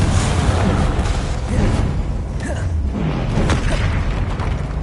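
Confringo fire spell explosions in the video game Hogwarts Legacy, dense booming blasts and crackling bursts over continuous loud game noise with no pause.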